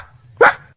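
A dog gives a single short, sharp bark, close and loud, over faint low background noise.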